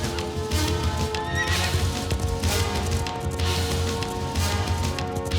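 A horse ridden through a forest gallops with rapid clip-clop hoofbeats and neighs loudly several times, close and prominent throughout.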